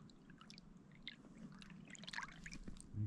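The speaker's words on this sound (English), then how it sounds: "The creek's popping off, actually." Creek water trickling and burbling steadily in the North Cascades, a soft continuous flow with faint splashes throughout, fairly quiet and heard alone without voices.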